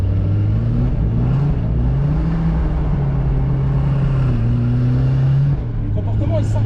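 BMW M2 tuned to 750 hp drifting on a circuit, the engine holding a loud, steady high rev with rising and falling pitch as throttle is fed back in, then dropping off near the end, with voices talking over it.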